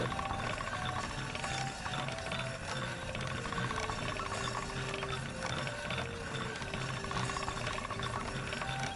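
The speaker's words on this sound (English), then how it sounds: "Gotta take it over to this nice little sharpening wheel and finish the edges." In Kingdom Come: Deliverance 2, a sharpening wheel grinds a sword's edges with a continuous mechanical whir and ratcheting rasp. Thin metallic scraping tones rise and fall over it at a steady, moderate level with no voices.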